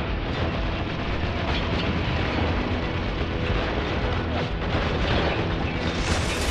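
A grenade blast in the video game Spec Ops: The Line, heard as a loud, sustained roar of explosion and rumbling debris that fills the whole stretch with no speech over it.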